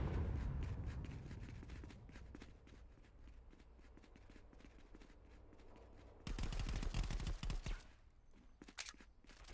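Rapid automatic gunfire rattles through the VR shooter Contractors VR in a competitive match, long bursts of cracking shots at varying distances, with a louder close barrage erupting near the end.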